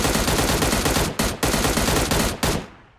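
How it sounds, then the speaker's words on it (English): Sustained automatic gunfire in a PUBG Mobile tournament match, loud dense bursts with two brief gaps before trailing off at the end, no voices over it. "Not a lot of those shots have landed."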